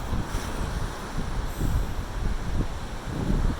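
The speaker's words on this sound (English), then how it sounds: "It's very windy morning today, and the waves are crashing in" Blustery wind and surf rolling onto a beach on an October morning, a steady broad roar with low wind buffeting against the microphone and surges of waves building and fading throughout.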